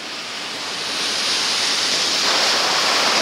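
Rushing water of the Nile river heard from a boat near Aswan, a steady broadband whoosh of flowing water and wind that grows slightly louder and continues without pause.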